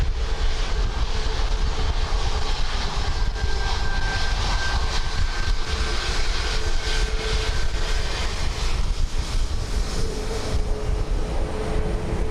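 A Ryanair airliner arriving from Nice at Dublin Airport on a windy day, a sustained low engine rumble with a faint tonal whine, steady and moderately distant, no voices.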